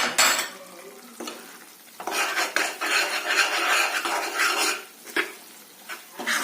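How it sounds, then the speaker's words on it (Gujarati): Cardamom and dry ginger powder being roasted in a pan while making sukhadi, with repeated scraping and clinking of a metal spoon against the pan and soft stirring in between. "આ પાવડરને બરાબર અંદર શેકી લેવાના છે"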